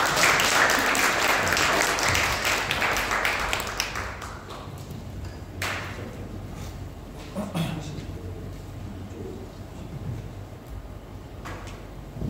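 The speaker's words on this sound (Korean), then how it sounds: "오늘 조한석 선교사님 나오실 때 우리 축복의 박수로 환영하시겠습니다." A church congregation applauds loudly to welcome a missionary, the dense clapping fading after a few seconds into scattered claps, taps and room noise.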